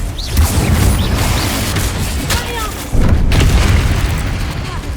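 The Confringo blasting spell explodes in the Hogwarts Legacy video game, giving two heavy, booming blasts about three seconds apart. Each one is loud and deep and trails off into a rumbling decay.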